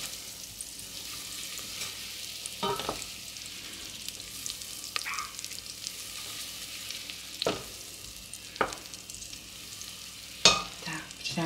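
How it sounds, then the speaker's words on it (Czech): Butter and chopped onion sizzle and sauté in a pot on a stovetop hob for Czech cauliflower soup, a steady soft frying hiss with a few brief stirring clatters, close by and no talk. "dáme si tam maslíčko, hezky si ho rozpustíme a dáme si na něj orestovat cibulku"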